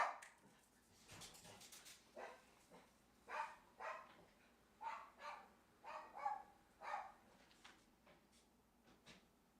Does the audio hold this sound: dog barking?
yes